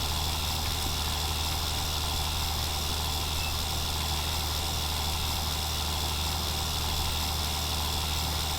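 Steady drone of a John Deere tractor engine in Farming Simulator 19, a constant low hum running evenly throughout with no change in pitch or speed.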